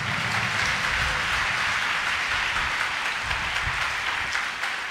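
Congregation clapping together during a Sunday service at Hosanna Ministries church in Gorantla, a dense, steady crowd applause filling the whole stretch at even loudness with no pauses.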